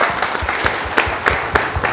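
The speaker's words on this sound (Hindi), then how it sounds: "तालियां" An interview-show audience claps in a loose burst of applause, dense and fairly loud with uneven peaks, and no talk over it.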